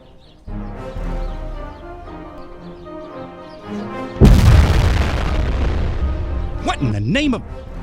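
Heavy weapons-fire explosions in a Star Trek fan film, a sudden loud booming blast that rumbles on for several seconds over a sustained musical drone, with a brief voice near the end.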